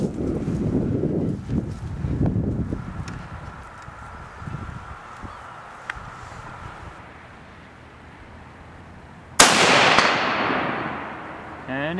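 Outdoors in wind, a rifle fires at an AR500 steel target 150 yards away: one sharp, loud crack near the end, followed by a fading ring, with muffled wind rumble and handling noise before it.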